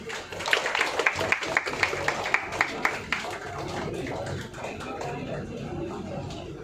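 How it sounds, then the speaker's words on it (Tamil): An audience claps at a ceremony of an astrology trust's triple festival in Tiruchirappalli, a run of fairly even, moderately close hand claps that thins into a softer murmuring crowd. "அனைவரும் கைத்தட்டலாம்."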